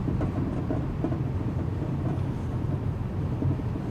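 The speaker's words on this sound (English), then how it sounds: "That's some wind. That's up force 5 on the Beaufort scale." Strong force 5 wind buffets a beach in a steady, loud, broadband roar with no breaks and no voices.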